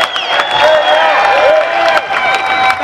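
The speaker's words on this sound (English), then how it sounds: "Give a big United States round of applause." An outdoor concert crowd at Wiggins Park in Camden, New Jersey, applauds and cheers for a singer, with whoops and shouted voices riding above scattered clapping for a few seconds.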